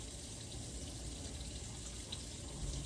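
Hot water running steadily from a tap to fill a pedicure foot basin, a constant soft gushing rush with no other sounds.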